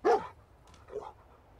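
Dogmeat, the German shepherd companion in the video game Fallout 4, gives one sharp, close bark followed by a softer short whimpering yip, with quiet background between.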